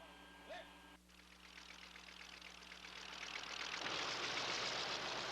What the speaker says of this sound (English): Here the Nakajima 14-cylinder Sakai engine is being run